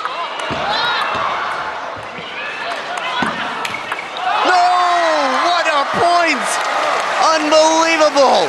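Applause and cheering from the crowd at a men's table tennis quarterfinal at the 2014 China Open, loud and sustained, with bursts of whooping and a commentator's voice running over it.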